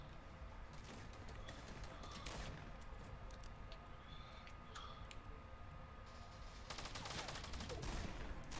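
Gunfire in PlayerUnknown's Battlegrounds comes as scattered bursts of rapid shots, sharp crackling rattles that cluster early and again near the end, fairly distant and quiet over a constant background hiss.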